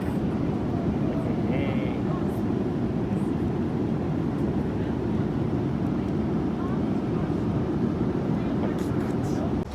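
Steady, loud low-frequency drone of an airliner cabin in flight on a trip to Dubai, continuous for the whole stretch, with a brief spoken word near the start.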